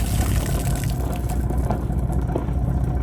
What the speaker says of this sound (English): started that engine, and each time that cycles through, we should see the water coming out there.